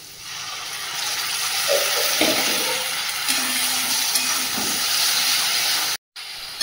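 Tomato paste frying in hot oil with ginger and garlic gives a loud, steady sizzling hiss that runs without a break, then cuts off abruptly near the end.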